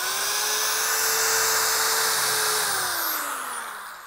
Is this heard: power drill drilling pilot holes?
yes